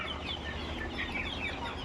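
Fayoumi chickens cluck and chirp softly amid a steady background hum of a farm, with no talk; faint, scattered calls over about two seconds.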